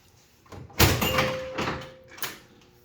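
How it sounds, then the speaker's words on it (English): Glass door on an Evel Knievel pinball machine slides shut, giving a soft scrape and thud followed by two lighter knocks as it settles, close and fairly loud with no one talking. "Push that back in, the door will close."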